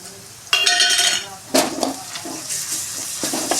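Ginger garlic paste hitting a pan of sautéed onions, with sharp bursts of sizzle and spatula scrapes that flare and fade in a close, short sequence.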